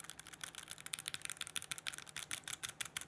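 Fast typing on a Keychron Q4 custom mechanical keyboard, close-miked, gives a dense run of crisp clacking keystrokes with slightly uneven rhythm and nothing else audible.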